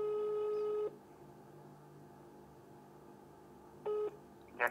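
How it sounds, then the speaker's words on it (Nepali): Two long steady tones from a telephone dialing a call to a hospital, separated by a near-silent gap, then a short burst of faint rapid beeps at the end. "नेपाल पुलिसको हस्पिटल महाराजगञ्जमा कल गर्दैछु म"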